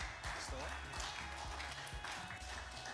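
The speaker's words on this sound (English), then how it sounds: "Give a hand, clap as they come in." Audience at a White Sunday church celebration claps as a group of boys enters, a soft scattered applause running under a voice talking over it.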